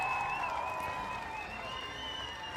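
Applause for a guest commentator on a political talk show fills the whole stretch as a steady, moderately loud patter of clapping, mixed with sustained tones, with no voices over it.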